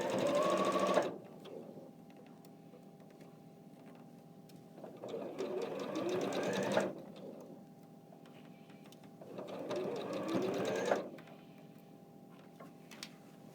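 A sewing machine stitches a quilting project in three separate bursts of rapid, rattling mechanical ticking, close and clear, with quiet pauses between runs.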